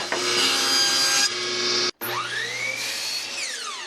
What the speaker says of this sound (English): I'm going to set my saw to 3/4 of an inch and rip a square section from this piece.